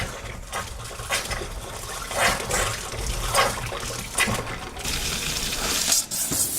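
Tap water laced with methane runs from a household faucet while a kitchen match is held to it. It makes a steady rushing, splashing noise with uneven surges and a few small clinks, and no one speaks.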